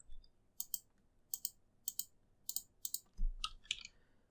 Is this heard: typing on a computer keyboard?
yes